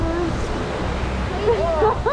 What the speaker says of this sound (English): Oh, here comes more splashes.